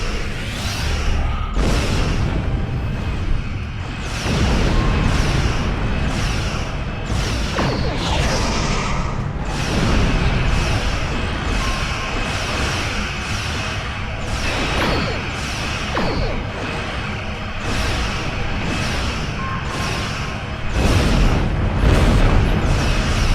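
Starship torpedo blasts in the Star Trek Online game, a dense nonstop wall of booms, whooshes and crashing explosions, loud and close throughout with a few heavier bursts.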